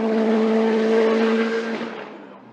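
A Nova Proto race car with a turbo engine climbs a hill-climb course, its engine holding a high, steady note before fading as it pulls away.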